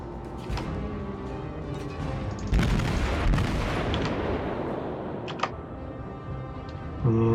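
Naval gunfire from ship guns in World of Warships, a sustained roar of heavy salvos with a louder burst midway and another near the end, fairly distant and unaccompanied by speech.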